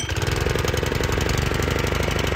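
The small petrol engine of a Graco LineLazer 3900 line striper idles close by with a fast, even chugging rhythm, steady and loud throughout.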